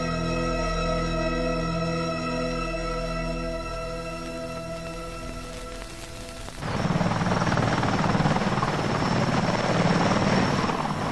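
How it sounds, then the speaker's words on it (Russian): Heavy military transport helicopters carrying liquid tanks during the Chernobyl cleanup thunder close by, a loud steady rotor drone that swells suddenly into a dense roar midway, without talking. "Мощные вертолеты, способные в боевых условиях перебросить по воздуху современную военную технику, несут баки с жидкостью"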